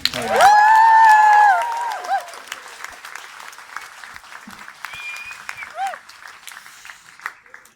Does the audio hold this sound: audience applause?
yes